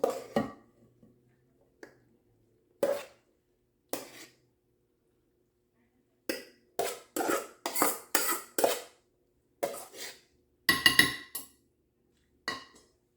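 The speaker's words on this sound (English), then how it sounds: "Use my spatula here to get all that out of my pan" A spatula scrapes and knocks against a pan, clearing out cooked wild rice in a series of short, close metallic scrapes and clinks separated by pauses.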